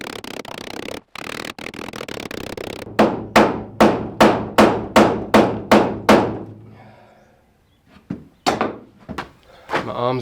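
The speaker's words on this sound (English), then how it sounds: "each blow wanted to push the aluminium away from the end face" Hammer blows striking the edge of an aluminium roof sheet backed by plywood and a wood block, about ten sharp, evenly spaced hits in a steady rhythm, then a short pause and a few more quicker blows; loud and close with no talking.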